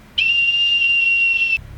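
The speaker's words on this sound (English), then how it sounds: "you take this whistle and you blow" A single sharp, high whistle is blown in one sustained steady blast lasting over a second, loud and close, then cut off abruptly, with no talking.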